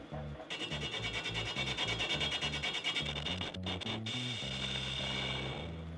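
A metal lathe facing stock runs with a steady whirring tone under a rapid, regular scraping and chattering cut, loud and close, briefly interrupted near the middle.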